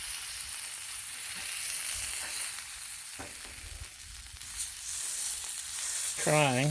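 Sirloin steak searing on a griddle gives a continuous close sizzle with a few scraping clicks, and a short whistling squeal near the end.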